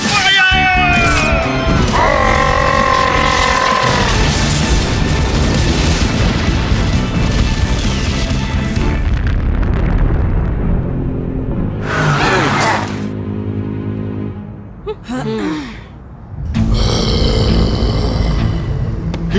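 Cartoon missile and fireball attacks fire in fast succession, loud booming explosions and crashes with whooshes, shouted over by excited voices, then sharp zaps and bursts near the end.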